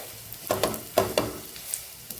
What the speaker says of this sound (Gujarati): સાવ ધીમા ગેસ ઉપર આપણે ખજૂરને અહીંયા એકદમ સરસ મેલ્ટ થાય ત્યાં સુધી શેકવાનું છે